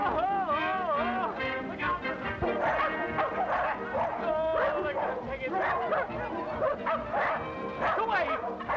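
Several dogs bark and yip excitedly close by, with whimpers mixed in, while a person speaks over the commotion.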